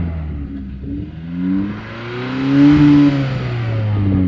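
Turbocharged 2025 Kia K4 GT Line exhaust heard from outside, a moderately loud, smooth drone rising and falling with revs and no burble, with no voices over it.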